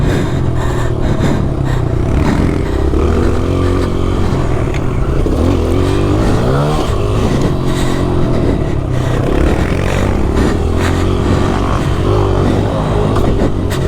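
Motocross motorcycle engine revving on a cross-training track, a loud, steady dirt-bike drone with rising and falling throttle sweeps and clattering mechanical noise throughout, no talk.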